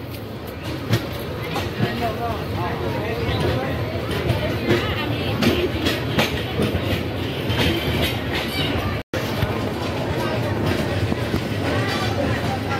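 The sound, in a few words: Tista Express passenger train running on rails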